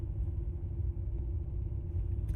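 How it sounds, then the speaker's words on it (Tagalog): Steady low rumble of slow, congested road traffic in Manchester, with car engines idling and creeping along close by, continuous and even with no voices. "Traffic dito"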